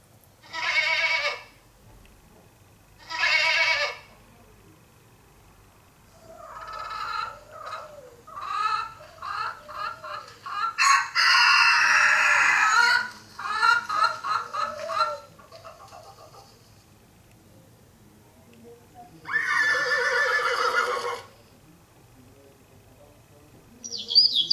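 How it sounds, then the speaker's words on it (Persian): Animal and bird sounds play from a phone speaker, including a goat's bleats, a rooster's crowing and a horse, heard as separate bursts with short silent gaps in between. "مثلا ما با استفاده از تلفن صدای یک تعداد حیوانات و پرنده ها را پلی میکنم"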